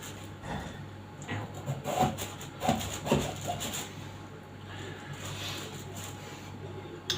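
A knife saws and carves through a pumpkin in uneven rasping strokes, a close scraping and grinding sound rising and falling over several seconds.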